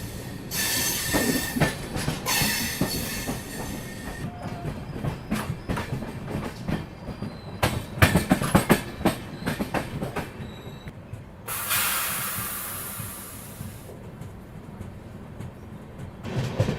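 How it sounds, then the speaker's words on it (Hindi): A Tamil Nadu Express passenger train in motion, with a steady rumble, clickety-clack of wheels over rail joints and bursts of hiss and wheel squeal, loud and close from inside the train, with no talking. "जब भी हमारी ट्रेन इस फैक्ट्री के पास से गुजरती है ना"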